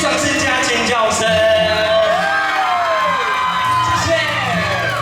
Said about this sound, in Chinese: 谢谢你们给自己掌声加尖叫声